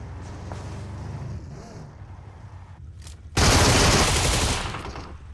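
Loud burst of automatic gunfire erupts from the middle of a battle royale game match and lasts a couple of seconds, with rumbling vehicle-like game noise and some talk earlier.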